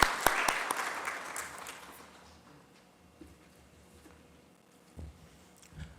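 An audience at a corporate tax symposium in Abu Dhabi gives a speaker a round of applause: a brief burst of clapping that fades within about two seconds, followed by quiet room noise with a few faint thumps.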